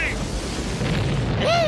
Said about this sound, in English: My favorite CD, Military Explosion.